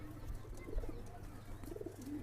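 Pakistani pigeons for sale coo in low, soft, overlapping calls close by, a steady murmur of several birds with a few clearer rising coos toward the end.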